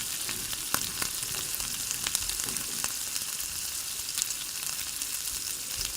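Rava appe batter sizzling and frying steadily in a pan, a continuous close hiss with scattered small pops and crackles throughout, no voices.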